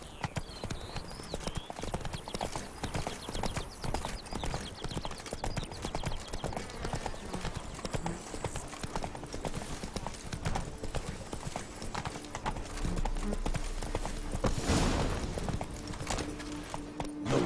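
Roach, the horse in The Witcher 3: Blood and Wine, gallops in a fast, steady clip-clop of hooves that runs throughout, with game ambience and a brief burst of noise near the end.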